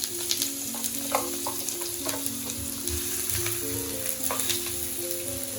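Chopped small onions fry in about four tablespoons of heated oil for a prawn curry, a steady close sizzle with occasional crackles and stirring, while background music plays softly beneath.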